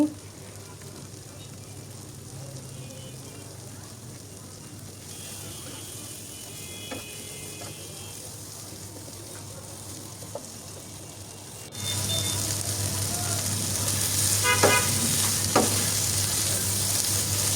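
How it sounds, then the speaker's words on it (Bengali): Turmeric, chilli and coriander masala sautés in a pan with a little water for beef brain bhuna, giving a steady close sizzle that grows much louder partway through, with occasional scraping stirs and no talk. "এই তো অল্প করে পানি দিয়ে আমি মশলা কষিয়ে নিচ্ছি"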